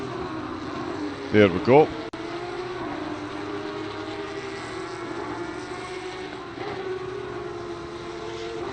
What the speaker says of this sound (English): Oh, the engines are loud, my apologies.